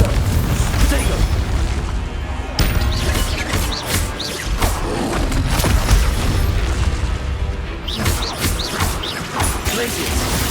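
Confringo fire spell explosions in the Hogwarts Legacy video game, a series of loud booming blasts and crashes in dense combat, with repeated impacts over a constant rumbling game soundscape.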